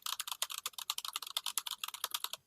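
Rapid typing on a computer keyboard, a close, steady stream of sharp key clicks in an uneven rhythm, with no voices.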